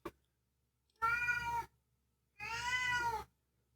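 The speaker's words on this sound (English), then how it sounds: "I got a cat meowing at me again" A cat meows twice near the microphone in a room. The drawn-out meows are well separated by silence, and a brief click comes before them.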